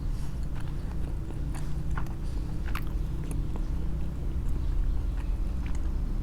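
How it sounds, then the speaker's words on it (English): Dried apricots chewed close up, with crisp, irregular bites and squelches that repeat steadily over a hum of background noise, with no talking. "मैं चबा रही हूँ. I'm chewing."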